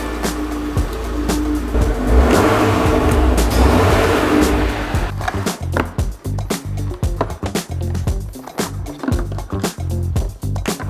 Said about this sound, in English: That's a running motor.